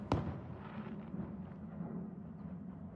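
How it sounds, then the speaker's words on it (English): A distant explosion at a house sounds as one sharp boom right at the start, then a low rumbling tail that fades slowly under steady background noise. "See, that's an explosion at somebody's house."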